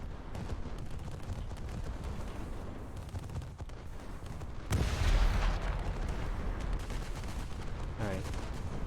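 Submarine torpedoes launch from port side tubes in a naval warfare video game, heavy booming blasts and rumbling bursts over continuous noisy battle sound, with a loud deep thump about halfway through.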